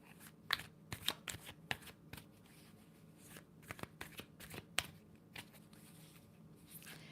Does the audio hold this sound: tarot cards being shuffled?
yes